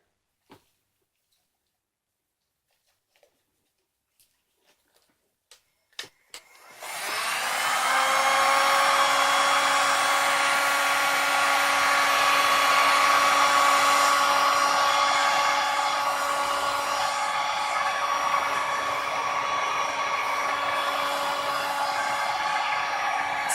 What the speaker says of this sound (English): All right, so we're going to do a little more heating up here.